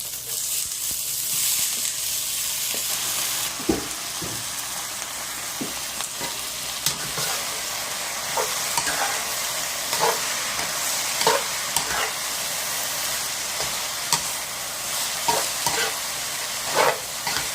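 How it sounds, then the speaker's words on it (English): Shredded potatoes are stir-fried in a wok over a continuous hiss of frying, broken by regular sharp scrapes and clacks from the spatula tossing them, heard up close. "So we need to stir fry until the potatoes almost look like transparent."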